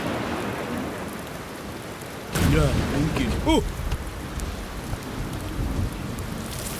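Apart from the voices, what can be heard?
rain with thunder in a cartoon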